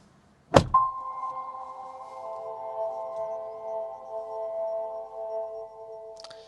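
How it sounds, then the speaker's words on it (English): A door on a 2025 Acura MDX Type S shuts with a single sharp thunk, followed right away by a steady electronic chime tone that holds for several seconds, close and moderately loud. "But let me go ahead and shut up the door."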